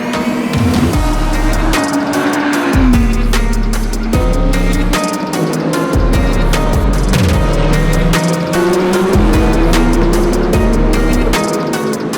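A Porsche 963 WEC hypercar on track during a rookie test, its engine loud and close with rising and falling revs, repeated sharp gear shifts and brief lifts, continuous throughout.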